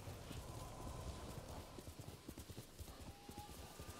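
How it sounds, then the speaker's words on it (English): Hooves clip-clop in a quick, steady galloping rhythm, fairly faint, over a low ambient background, from a horse in the video game Ghost of Tsushima. "He just rode a horse through our camp."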